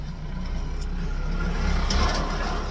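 A truck drives past on a road, a low rumbling engine swelling slightly as it nears and stays close throughout, with no speech over it.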